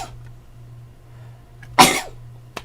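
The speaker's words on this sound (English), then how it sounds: "I gotta sneeze right now." A single sharp, loud sneeze bursts out close to the microphone after a quiet moment, followed by a brief smaller catch of breath.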